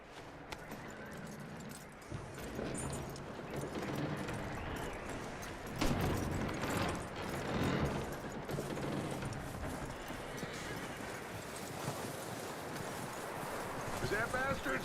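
Hooves clip-clop from a horse in the Red Dead Redemption video game, a continuous rhythmic patter with creaks and jangling tack, fairly loud and close throughout.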